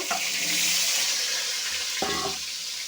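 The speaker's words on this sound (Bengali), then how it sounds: "এখন এই সিদ্ধ আলুগুলো আমি ভেজে নেব।" Boiled potatoes frying in hot oil in a pan for a homestyle egg curry with small potatoes, a steady loud sizzle throughout, with a brief surge of crackling near the end as they are stirred or added.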